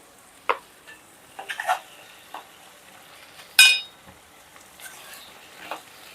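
Curry with ginger paste being stirred in a pan, giving a few scattered scraping and clinking strokes over a faint sizzle, with one louder scrape near the middle.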